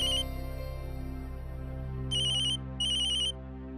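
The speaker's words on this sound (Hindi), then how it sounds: "देवरा साहब का फोन" A mobile phone ringtone plays as a bright electronic trill in short bursts, one at the start and two more near the end, close and clear over a low steady background hum.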